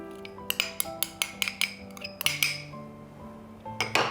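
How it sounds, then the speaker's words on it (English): Metal spoon clinks and scrapes against a bowl while couscous tabbouleh salad with chopped tomatoes is stirred, a steady series of close, sharp taps with some longer scraping strokes. "So give that a stir."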